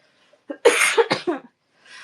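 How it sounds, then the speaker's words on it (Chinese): A single short bout of coughing from one person indoors, close and fairly loud, a burst of two or three harsh coughs lasting under a second, then quiet with faint breathing noise afterward. "我咳嗽一下。"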